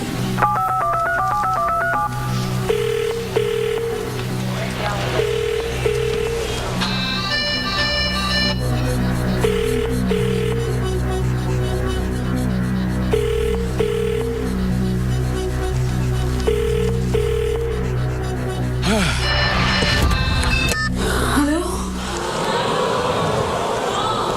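A telephone is dialed on a late-night TV talk show set, with a sequence of dial tones and ringing beeps alongside background music and crowd noise.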